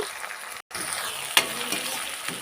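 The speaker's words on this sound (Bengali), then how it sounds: "এবারে এর মধ্যে 2 চামচ রসুন বাটা দিয়ে দেবো, দিয়ে ভালো করে কাঁচা গন্ধটা যাওয়া পর্যন্ত ভেজে নেব" Onion and garlic paste fries in oil in a pan. There is a steady sizzle with light stirring and one short clatter, close by and moderately loud, with no voices.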